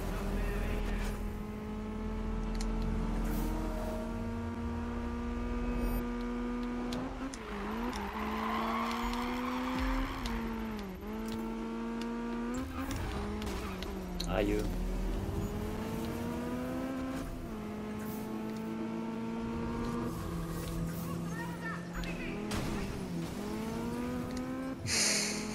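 Mazda RX-7 in Need for Speed racing and drifting, its engine droning and revving steadily with gear shifts while tires squeal through long slides, continuous and close throughout.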